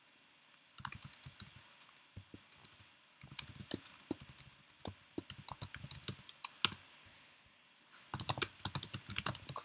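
Code is typed on a computer keyboard, close and fairly quiet: rapid irregular key clicks in bursts with short pauses, ending in a dense flurry, with no talk.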